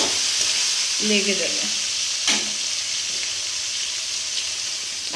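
Pieces of fish roe fry four at a time in a pan, giving a constant bright sizzle throughout, with a brief voice speaking early on and a sharp clatter near the middle.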